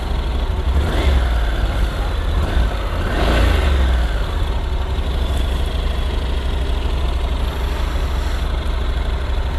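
A Honda NC750X DCT motorcycle engine runs at a steady, loud idle after being started, with a deep low rumble that swells briefly near the start before settling into an even throb.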